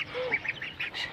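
A white duck quacks close by, giving a quick run of four or five nasal quacks in rapid succession, with no other voices.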